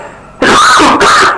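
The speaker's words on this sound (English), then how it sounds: "I'm coughing." A man coughs harshly once or twice, loud and close to the microphone, a rough throat-clearing burst after a moment of quiet.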